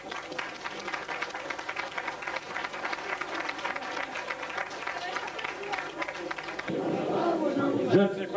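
Broad, steady clapping from a crowd fills the room for several seconds, then thins out as a single voice takes over near the end.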